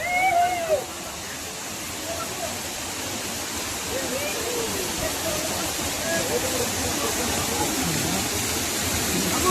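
Steady rushing roar of Jhari Falls, a waterfall near Chikkamagaluru, fills the scene as a broad, continuous wash of falling water, with faint voices talking briefly over it at the start.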